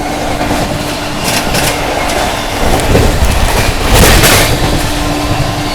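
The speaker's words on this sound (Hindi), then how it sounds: "यहाँ पर अपनी सीआर राजधानी एक्सप्रेस ओवरटेक कर रही है गोरखपुर एलटीटी एक्सप्रेस को।" A CR Rajdhani Express overtakes the Gorakhpur LTT Express at Vidisha railway station, wheels rumbling and clattering loudly and steadily, with the roar swelling toward the end.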